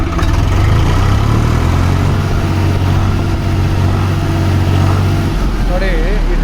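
A Swaraj 733 FE tractor's diesel engine running close and loud, a continuous heavy rumbling idle for several seconds that cuts off sharply near the end, with a voice speaking over it.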